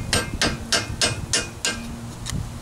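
Hammer tapping a bushing out on a Jeep Wrangler YJ, seven sharp metallic strikes at a steady, slightly uneven rhythm, close and loud.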